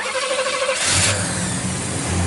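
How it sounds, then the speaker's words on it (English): The V8 engine of a numbers-matching 1968 Pontiac GTO cranks briefly and catches, then settles into a steady, close rumble. "Fires right up, sounds good."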